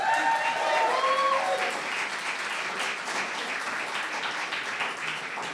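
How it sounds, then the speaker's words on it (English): A crowd at an evening arts event bursts into sustained, dense applause for a speaker, steady and close throughout, with a voice briefly heard over it at the start. "Big round of applause for Sarah"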